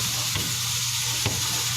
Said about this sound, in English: you can hear some steam starting to come out of the canner already